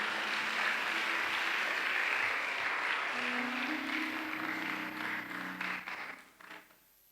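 A church conference congregation claps in praise, a broad, sustained patter of applause at moderate distance that thins and fades out near the end, with some tonal hum beneath.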